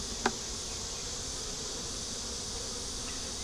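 Honey bees buzzing around an open, honey-bound hive, a faint continuous hum with a single brief tap near the start and no voices.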